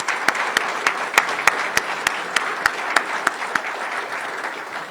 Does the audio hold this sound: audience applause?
yes